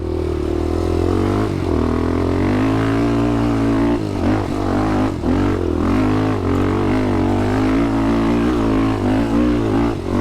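A 2007 Honda 400ex quad with an air-cooled engine running on wooded trails, a loud steady close-up drone with short revs and dips as the throttle changes, plus some clatter from the machine.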